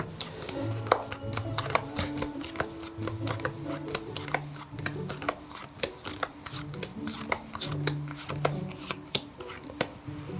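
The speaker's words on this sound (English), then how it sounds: "So you keep dealing the cards." Playing cards from a magic set are dealt one by one into piles on a table, giving crisp, irregular snaps and slaps close by, with a few soft hand sounds between.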